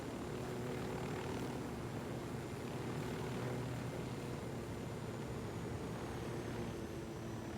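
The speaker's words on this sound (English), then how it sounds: "Still really trying to get to grips with this more advanced chopper config." Steady rotor and engine drone of a helicopter in Ghost Recon Wildlands, a constant mid-level hum with airy broadband noise running throughout with no gaps and no voices.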